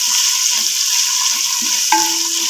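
Onions sautéing in a pan for chana and potato pulao, a steady close frying hiss with a faint tone running through and one soft clink near the end, no voices.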